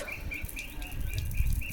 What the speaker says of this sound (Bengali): আর এখানে না পাখির ডাক অনেক সুন্দর লাগে শুনতে।